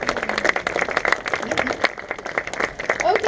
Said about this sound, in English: So round of applause for all the parents.